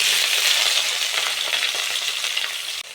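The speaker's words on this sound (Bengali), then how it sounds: "এবার ওই তেলের মধ্যে আলুটা ভেজে নেব।" Potato frying in hot oil after a batch of bat papad, with a steady close hiss and crackle that holds at the same loudness for about three seconds before stopping abruptly.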